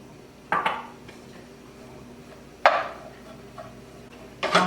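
Three sharp metallic clanks against a frying pan ring out at uneven intervals as browned ground beef is added, each followed by a brief sizzle-like decay, in a quiet kitchen.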